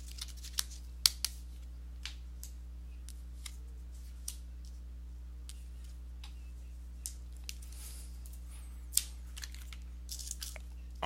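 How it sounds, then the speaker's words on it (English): Tarot cards being shuffled by hand, with sparse soft riffling, taps and crisp clicks scattered over a quiet room with a steady low hum. "let me go ahead and give these cards a shuffle"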